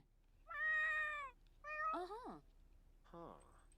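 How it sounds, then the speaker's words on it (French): A cat in The Sims 4 gives three distinct meows in quick succession, clear and close against a quiet background. "Arrête de miauler."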